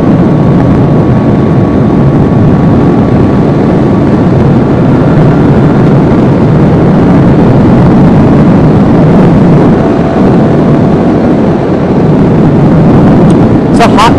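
A 200cc two-stroke Vespa P200e scooter with a rat-style build cruises on a hot day, its engine a steady, loud droning rumble mixed with heavy wind buffeting throughout, and a voice speaks over it.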